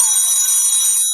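Cartoon telephone ringing as a call goes out to Inspector Panda, a loud continuous electronic ring with steady high tones, alone with no talk.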